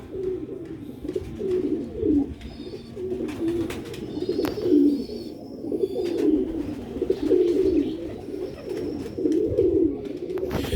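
Sialkoti pigeons coo in repeated low, throaty rolling calls, several overlapping nearby, with faint chirps and shuffling in the background.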